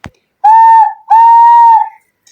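Two loud, clear whistle blasts, each about half a second long, made by blowing into cupped hands, with a short gap between them. They come up close and alone after a brief click.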